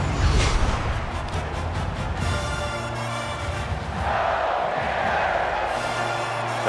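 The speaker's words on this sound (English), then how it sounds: "The crowd of this stadium, always a factor in a football game." A stadium crowd roars steadily in a simulated Miami at Florida college football game in NCAA 14, a dense, continuous wall of cheering and shouting that swells slightly toward the end.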